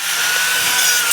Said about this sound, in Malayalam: അതിനായിട്ട് നമുക്കൊരു സാൻഡർ ഉപയോഗിച്ചിട്ട് ആ 45 നമുക്കിതുപോലെ കട്ട് ചെയ്യാം.